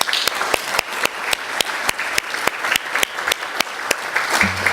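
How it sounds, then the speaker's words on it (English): Sparse, evenly spaced clapping from a small group at a conference opening ceremony, steady and fairly close, with no cheering. "a big round of applause to all of you"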